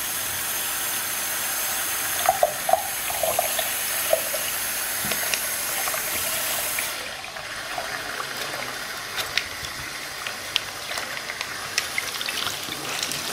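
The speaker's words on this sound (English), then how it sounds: "rinsing off the gravel" Running water pours steadily over aquarium gravel being rinsed, a constant close hiss and splash with small clicks of stones shifting throughout.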